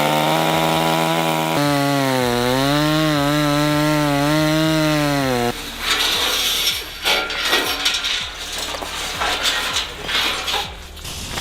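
A power saw cuts straight along a metal sheet. A loud, wavering motor whine runs for about five seconds, then gives way to harsh, uneven grinding and rattling as the blade bites, with no talking.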